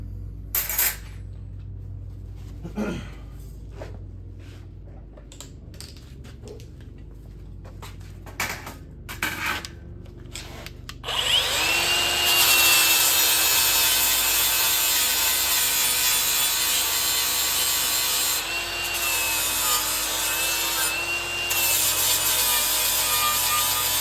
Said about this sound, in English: I gotta grind this off.